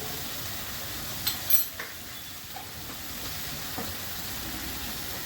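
Ground spice paste of cumin, dried red chillies and green chillies fries in a pan for a masala egg curry, a steady close sizzle with a couple of brief clinks.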